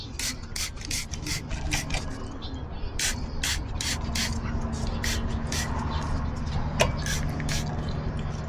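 Short bursts of cleaner spray hiss repeatedly onto the chain of a 2022 Ducati Hypermotard 950 motorcycle, coming in quick irregular pulses over low background rumble.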